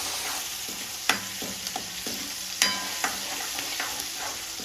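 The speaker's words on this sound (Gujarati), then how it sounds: "મિક્સ દાળના વઘાર આ રીતના વઘાર કરવાનો" Hot oil sizzles steadily up close as a mixed dal tempering fries, punctuated by a few sharp metallic clinks of a spoon against the pot.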